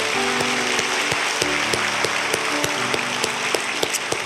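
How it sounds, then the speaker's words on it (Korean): Steady crowd applause fills a church during a Sunday service, a dense patter of many hands clapping continuously at a fairly loud level, with a faint tonal hum beneath. "박수로 뜨겁게 환영하겠습니다."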